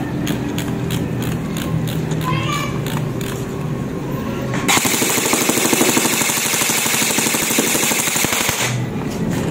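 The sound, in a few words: modified HK416 airsoft rifle firing full auto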